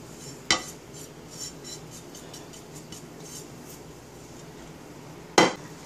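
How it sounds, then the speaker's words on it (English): Cumin, coriander and brown sugar are dumped into a pot of Southwestern turkey chili: two sharp metallic clinks, one at the start and one near the end, with quiet scraping between. "So let me dump this all in."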